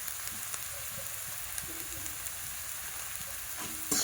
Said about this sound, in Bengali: দিয়ে ভালো করে একসাথে কষিয়ে নেব